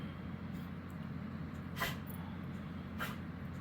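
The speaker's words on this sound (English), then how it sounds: "Sorry if my dog is barking in the background." A dog gives soft, huffy woofs in the background of a quiet indoor room, two brief muffled puffs standing out faintly over a low steady hum.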